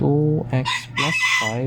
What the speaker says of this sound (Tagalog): Pasensya na sa manok guys, ang ingay.